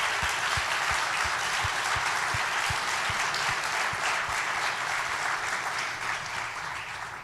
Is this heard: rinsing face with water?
no